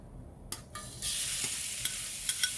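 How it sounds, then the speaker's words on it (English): Meat added to a hot pan for fried rice, bursting into a bright, close sizzle after a few stirring clinks and scrapes, with more scraping taps over the steady frying hiss. "now I'm going to add the meat"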